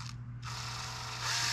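Quick ratcheting clicks as bolts are snugged up on an RC car, a steady buzzing run of ratchet noise close to the mic after a brief pause, with no talk.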